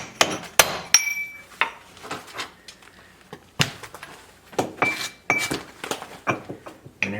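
Hammer blows chip mortar off a sandstone brick wall, roughly a dozen sharp, irregular knocks with clinking debris, close and fairly loud, with brief pauses between strikes and no talking.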